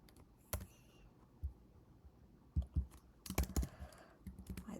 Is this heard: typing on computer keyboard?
yes